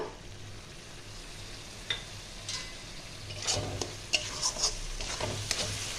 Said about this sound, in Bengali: এবার দিয়ে দেবো আমি দুটো টমেটোকে পেস্ট করে রেখেছিলাম ওইটা।